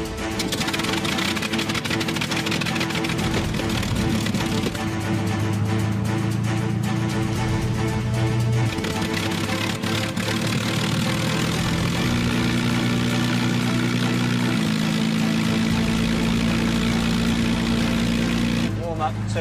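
A Spitfire's piston aero engine runs loud and steady close by, a dense low throb with shifting harmonics, as it settles from start-up into idle and then a slightly higher speed.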